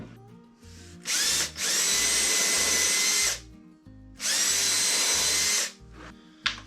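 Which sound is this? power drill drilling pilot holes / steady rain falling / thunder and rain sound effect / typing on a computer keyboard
power drill drilling pilot holes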